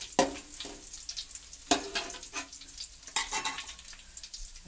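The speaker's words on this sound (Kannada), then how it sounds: "ಒಗ್ಗರಣೆ ಮಾಡ್ತಾಯಿದ್ದೀನಿ. ಎಣ್ಣೆ ಹಾಕಿ ಕರಿಬೇವು ಸೊಪ್ಪು ಹಾಕಿದ್ದೀನಿ." Curry leaves crackle in hot oil during tempering for masala puffed rice, a close sizzle broken by sharp pops and the scraping of stirring, with no talk.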